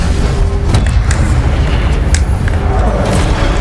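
In the Hogwarts Legacy video game, an Incendio fire spell is cast, producing a loud, sustained, roaring rumble with a deep booming body that fills the whole moment.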